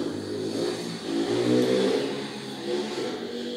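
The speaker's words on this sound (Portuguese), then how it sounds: "tem uma criança brincando na rua com aquelas motos, aquelas motinho" Small motorbike ridden by a child in the street, its engine revving up and down in repeated waves at moderate distance, steady and unbroken.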